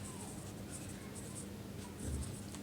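Marker or chalk writing on a classroom board during a Hindi-language English grammar lesson, a steady faint scratching under a soft background hum, slightly louder near the end.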